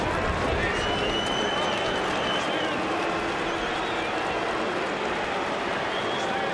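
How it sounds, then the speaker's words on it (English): A large Australian football crowd boos, hoots and hollers during an AFL match between Fremantle and Adelaide, a broad, steady roar of noise filling the stadium throughout. "Crowd starting to boo. Hoot, holler, try and put him off."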